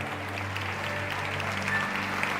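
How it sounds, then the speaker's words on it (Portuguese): A church congregation applauds in a steady, dense wash of clapping that holds evenly throughout, with a low hum beneath and no speech over it. "dá um glória a Deus e um aplauso para Jesus"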